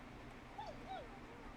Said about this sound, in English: Is that a neighbor's dog?